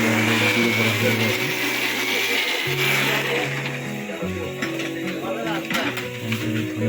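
A kitchen mixer grinder whirring as it grinds turmeric, ginger, garlic and spice paste, a steady motor drone with shifting pitch, while voices are audible in the background.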